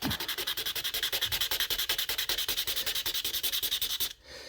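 Steady rhythmic rasping of a 150 grit file sanding gel nail extension, fast even back-and-forth strokes, close and constant, stopping abruptly near the end.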